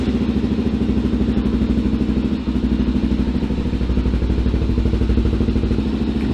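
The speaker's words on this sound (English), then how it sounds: "we'll go ahead and start the engine and idle the ATV" A Honda 400X ATV engine idles steadily and loudly nearby in neutral, its rapid, even chugging and mechanical clatter continuing without a break.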